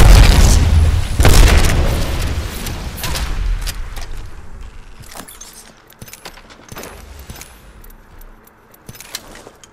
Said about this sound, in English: Thermite grenade out. Arc star out.